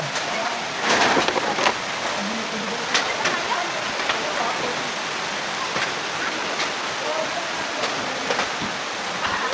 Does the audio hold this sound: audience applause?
no